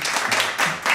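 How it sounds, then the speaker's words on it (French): Brief burst of audience applause filling the whole second, dense and steady at close range with a slight swell near the middle and again toward the end, no voices over it. "Je crois qu'on peut vraiment vous applaudir"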